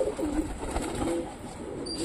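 A male pigeon on a rooftop gives low, soft cooing, fairly faint against steady outdoor background noise, with no talk.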